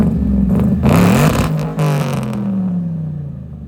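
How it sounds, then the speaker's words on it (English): A supercharged LS-powered tow truck roars hard under acceleration, its engine note rising and falling, with a sudden clattering jolt midway as the drive shaft snaps, the engine continuing to whir afterward. "Oh my god, the drive shaft just broke."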